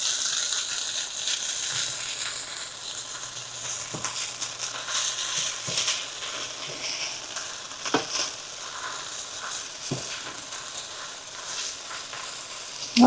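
Hot dogs braise in beer in a pan, giving a steady broad sizzle and bubbling hiss throughout with a few faint clinks of stirring, with no talking.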